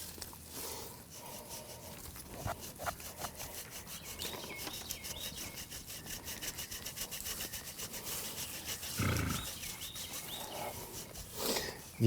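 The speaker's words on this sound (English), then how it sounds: "Use our hand grater." A hand grater rasps through eight ounces of Swiss cheese in repeated back-and-forth strokes, close and steady, with a brief louder scrape near the end and no speech.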